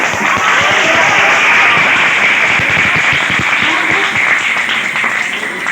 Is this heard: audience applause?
yes